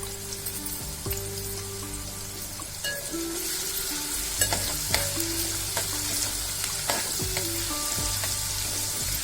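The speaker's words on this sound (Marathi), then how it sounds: "आपण यामध्ये लसूण टाकणार आहोत तेल तापलेलं आहे" Garlic sizzles in hot oil for a river fish curry, a continuous loud frying hiss broken by repeated scraping stirs of a spoon against the pan, with no voices.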